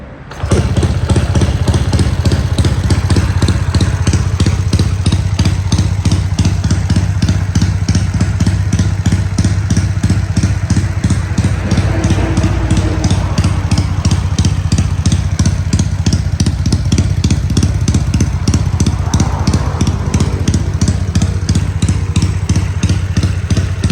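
A Honda Dream motorcycle engine, bored up from 53 to 57 mm, starts and settles into a steady, loud, throbbing idle close by, its rapid pulsing beat continuing evenly throughout without talk.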